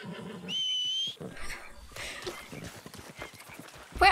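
A horse in the video game Red Dead Redemption 2 clip-clops and whinnies, with a high tonal call early on and steady hoof and movement sounds under a person talking throughout.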